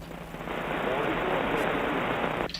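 Steady rain hiss comes over a ham radio transmission during a live tube-radio net, a dense even wash of static-like patter filling the whole clip at moderate loudness before cutting off abruptly.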